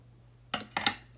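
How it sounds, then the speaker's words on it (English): Scissors snipping through paper to cut out small paper hearts: a single crisp cut followed by two quicker snips, close and fairly quiet against a soft background hum. "I am going to go ahead and pull my scissors out"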